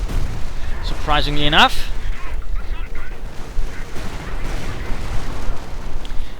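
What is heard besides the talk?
artillery fire in a World War II strategy video game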